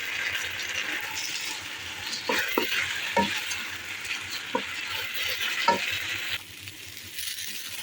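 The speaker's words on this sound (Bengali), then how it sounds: "এই যে চাল ডালগুলো সব একত্রে ভেজে নিচ্ছি একটু" Rice and lentils fry together with spices in a pot for khichuri, giving a steady, close sizzle with scraping stirs and a few sharper knocks throughout.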